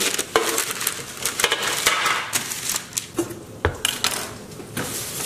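A knife cuts through a buffalo gourd or butternut squash on a board, with sharp close crunches and knocks scattered across a few seconds.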